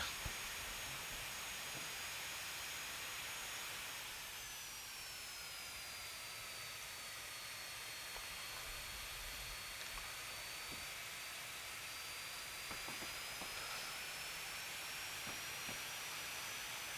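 Diesel locomotive engine in Train Simulator 2019 on the South Western Main Line, revving high while climbing uphill, a steady loud whine with a slowly shifting pitch over continuous rumble and hiss.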